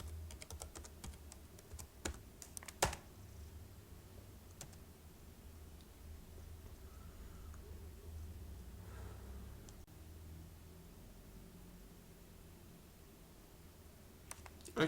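Keys on a computer keyboard are pressed in a Ctrl+F shortcut, giving quiet scattered clicks in a cluster early on, then a few isolated taps over a low steady background hum.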